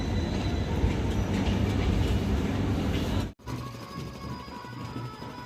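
A Lakshmikantapur local train at Sealdah station rumbles steadily with rail clatter, cuts out briefly, then continues more quietly with a faint tonal hum.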